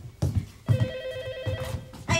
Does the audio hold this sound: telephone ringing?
yes